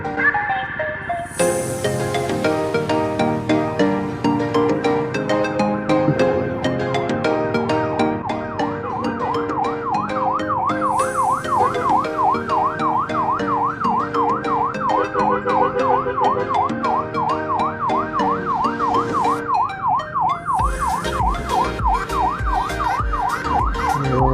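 An ambulance siren wails with a rapid rising-and-falling warble, loud and sustained, amid other busy background sound, heard from a motorcycle on a city road at a three-way junction in Banjarbaru, Indonesia.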